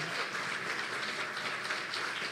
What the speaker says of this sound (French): Let's clap for our pastor this morning.